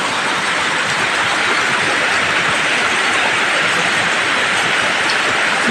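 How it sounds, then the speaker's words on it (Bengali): Heavy rain pouring down outdoors over a garden, a dense, loud, unbroken hiss of water that stays constant from start to finish with no speech. "জল বৃষ্টি জোর বৃষ্টি হচ্ছে জোর বৃষ্টি হচ্ছে বন্ধুরা দেখো"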